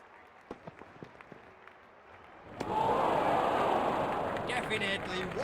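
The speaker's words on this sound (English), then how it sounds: "The crowd is exhilarated." Applause from a crowd in the video game Real Cricket 20 swells suddenly to a loud, sustained roar after a few sparse, isolated claps or taps.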